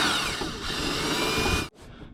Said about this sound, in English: go ahead and put a little pilot hole here for your self-tapping screw